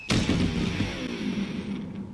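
An electric guitar, thrown off a building, smashes in one loud sudden impact, followed by a sustained low rumbling, resonant ring that slowly decays.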